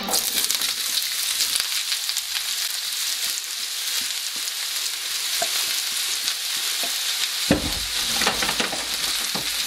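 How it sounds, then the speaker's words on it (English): Chopped celery, carrots, onion, mushrooms and garlic sizzle steadily in a hot pan for a vegetarian nut roast, a continuous close frying hiss with occasional stirring clicks and a louder scrape near the end, no talking. "I'm going to get these in the pan and get them sweating down for about 5 or 6 minutes"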